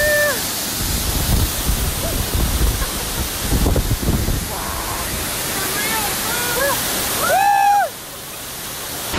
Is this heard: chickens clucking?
no